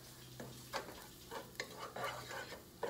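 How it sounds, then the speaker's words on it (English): Sausage and bacon cook in a pot for Zuppa Toscana soup, giving a faint sizzle as a spoon stirs and scrapes in short bursts, about seven strokes in quick succession. "I'm gonna cook it for a minute. You wanna stir it around."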